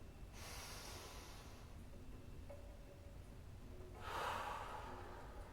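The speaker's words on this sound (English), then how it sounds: "Deep breath in." Slow deep breathing during a guided meditation, a long soft airy inhale followed by a second breathy rush, faint and close.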